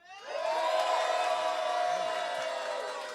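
A loud crowd cheers and whoops together in one sustained roar that swells quickly and holds steady for a few seconds, close and full with no single voice standing out.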